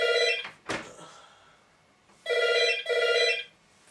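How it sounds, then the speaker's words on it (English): A telephone bell rings in two loud bursts, then two more after a pause, with a sharp knock-like sound between them. "freaking phone."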